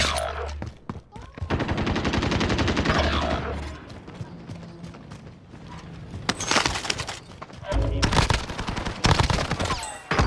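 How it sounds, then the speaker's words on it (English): Rapid gunfire bursts crack out in Call of Duty Warzone, loud and close, with dense automatic-sounding volleys and a few heavier blasts near the end. "I'm never using a shotgun again,"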